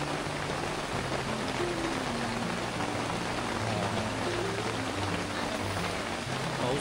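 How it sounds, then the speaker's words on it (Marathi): Steady rain pours outdoors on a forest trek near the Kondana caves, a dense, even patter on leaves and ground with no break, close and fairly loud, with no voices. "पाऊस परत चालू झाला आहे"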